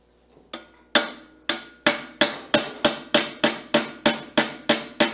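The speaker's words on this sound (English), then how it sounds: "Got a soft hammer?" A dozen sharp, ringing soft-hammer taps on metal, starting sparse then settling into a steady, even rhythm, close and loud.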